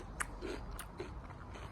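Someone bites into and chews a crunchy, freshly picked cucumber from a container garden, giving a few crisp, close-up crunches in a quiet setting.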